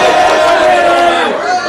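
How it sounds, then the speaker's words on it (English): Anxious crowd in the grandstand at a country football match, a dense, loud roar of massed voices and shouting filling the whole moment without a break. "the crowd is getting very, very anxious in the grandstand"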